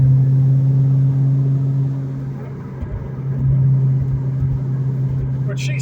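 A 2004 Ford Mustang Mach 1 cruises in fifth gear while still warming up, its engine holding a steady, close, low droning hum with a slight dip and swell in loudness throughout.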